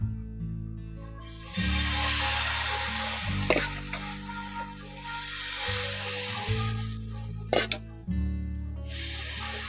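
Patisapta pitha batter sizzles in a hot pan with a continuous close, loud frying hiss broken by a few scraping clicks, over a low steady hum.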